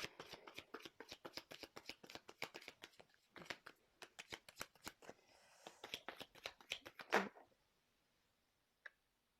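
Tarot cards shuffled by hand in a rapid run of crisp, close riffling flutters, pausing briefly midway, ending with a sharper snap of cards and one last faint tick after a short silence.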